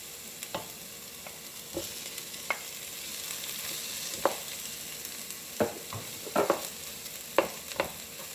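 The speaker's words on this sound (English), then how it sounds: "Now you just want to cook this until the onions are soft" Onions softening in a pan while a vegetable lasagna is made, giving a quiet, continuous sizzle broken by sharp clicks and scrapes from a utensil stirring, with no talking.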